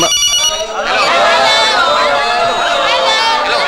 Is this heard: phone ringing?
yes